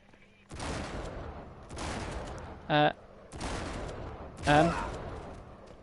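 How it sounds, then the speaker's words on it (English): Gunfire from a shootout in the video game Uncharted 3: four separate bursts of rapid shots, each about a second long, with two short shouted voices between them over a quiet backdrop. "We just have to shoot it."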